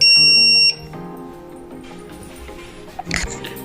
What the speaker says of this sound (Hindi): ये बज़र ने बहुत अच्छे तरीके से काम किया है